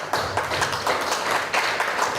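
Audience at a community leaders' session clapping, a moderately loud, close patter of many hands with uneven bursts and no voices.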